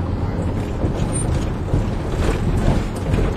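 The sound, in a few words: Mercedes Sprinter van engine braking downhill in gear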